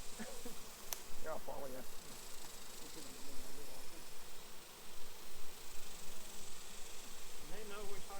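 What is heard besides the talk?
honey bees buzzing around hives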